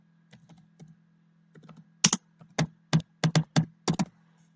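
Keys on a computer keyboard are typed in short clusters: a few soft taps first, then a run of sharper, louder clacks, close up with no talking.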